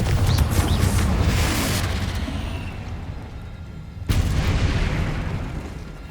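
Confringo and Bombarda spell explosions in the video game Hogwarts Legacy, heard as loud, booming blasts that roll over a dense rumbling din, with a fresh impact hitting partway through.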